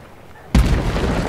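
A single explosive charge detonates in the video game Hunt Showdown, a sudden loud boom cutting through a quiet background and leaving a rumbling, noisy tail.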